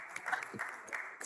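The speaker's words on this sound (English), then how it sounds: "Clap for them as they come." Audience at a tobacco tax advocacy launch in Ghana applauding as guests come forward: thin, somewhat muffled clapping from a hall, fairly quiet and brief.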